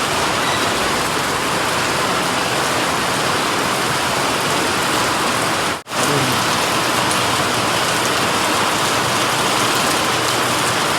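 Heavy rain pours steadily in Patan during a stormy spell, a dense, loud, unbroken hiss of water drumming on surfaces, with one brief dropout midway and no voices.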